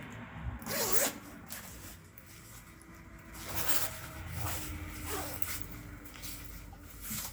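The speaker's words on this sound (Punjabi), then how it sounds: "ਦੂਸਰੀ ਸਾਈਡ ਵਾਲੀ ਆਪਣੀ ਜਿੱਪ ਲੱਗ ਚੁੱਕੀ ਆ ਹੁਣ ਆਪਾਂ ਜਿੱਪ ਨੂੰ ਖੋਲਣਾ ਵਾ" A coat zipper is pulled open in several slow, scratchy passes, close and fairly quiet, with no talking.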